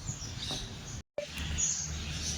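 A grey African parrot gives short chirping calls over a busy outdoor zoo background, with a brief dropout in the middle.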